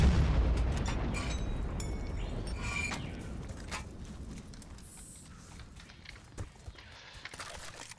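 A rocket from an RPG launcher in a video game detonates in a heavy, booming blast that rumbles and slowly fades, followed by scattered smaller pops and crackles in the background.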